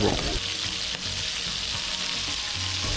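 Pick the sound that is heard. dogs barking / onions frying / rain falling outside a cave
onions frying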